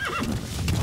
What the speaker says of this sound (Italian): per muoverci velocemente ci è stato fornito questo cavallo